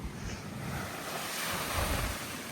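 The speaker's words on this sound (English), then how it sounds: "Some massive waves getting thrown over now." Massive ocean waves crash and surge beside a go-kart track on the shore, a continuous roaring wash with heavy wind buffeting the microphone and no voices.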